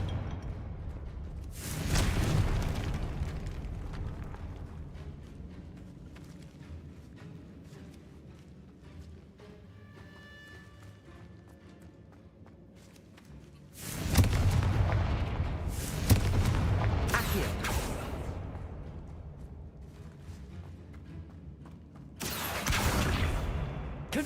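Confringo fire spell blasts from Hogwarts Legacy boom out loudly three times, each a broad roaring burst that decays slowly, separated by quieter stretches of ambient game sound.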